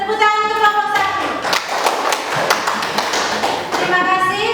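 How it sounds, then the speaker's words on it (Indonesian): A classroom of students applauds a presenting group: a burst of close, crisp clapping that holds steady for several seconds, with children's voices mixed in. "Tepuk tangan untuk kelompok 1."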